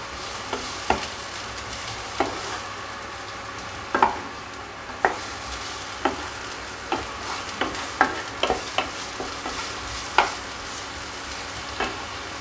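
Onions frying in a pan give off a constant low sizzle, broken by repeated clicks and scrapes of stirring at irregular intervals, with no talking.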